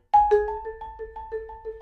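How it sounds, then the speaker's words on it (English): A jazz piano melody played in octaves, each note quickly repeated in a measured tremolo-like roll, clear and close. "I played the melody in octaves"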